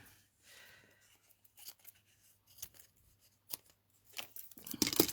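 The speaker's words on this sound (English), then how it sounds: "Let's trim these pieces." Scissors trim ribbon pieces on a handmade card: quiet, close snips come in an uneven series and grow busier and louder toward the end.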